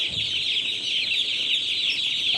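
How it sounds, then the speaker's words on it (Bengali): Broiler chicks at a farm during brooding make a dense, continuous chorus of shrill peeping, loud and close, with a few low clucks and no voices. "ব্রয়লার মুরগির বাচ্চা কীভাবে বুটিং করতে হয়"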